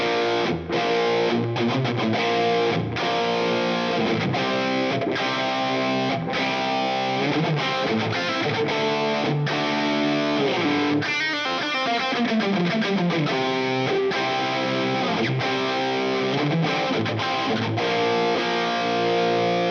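Distorted electric guitar through an RD Compact Hot Rod and a Marshall JCM800, a continuous heavy rock riff with chugging chords, bends and a brief sliding passage, loud and close with no talking.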